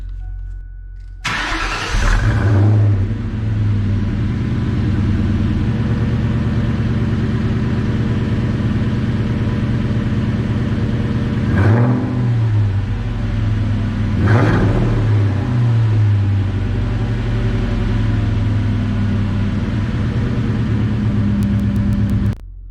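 A 2001 Ford Mustang Bullitt with a 4.6-liter two-valve V8 and a freer-flowing exhaust starts up and settles into a steady, close idle. Two sharp revs blip partway through, each dropping back to idle, with no talking.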